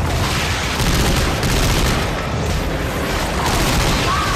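Dense, continuous gunfire and booming impacts from the video game Dead Space 3 fill the whole span as weapons fire at creatures' tentacles, loud and unbroken with no clear gaps.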